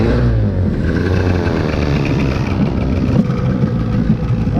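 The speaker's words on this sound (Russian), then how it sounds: "А потом у нас идет заводка мотора." A boat motor runs with a busy mid-pitched mechanical drone, loud and close throughout, with no voices over it.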